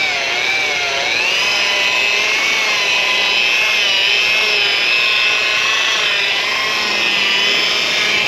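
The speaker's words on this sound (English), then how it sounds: "We're going to be using a rotary." A rotary polisher applies Meguiar's No. 50 cleaner wax to a boat hull with light oxidation during marine detailing in Orange Beach, Alabama. It makes a loud, steady, close-up motor whine that runs throughout, with its pitch wavering slightly and no talking.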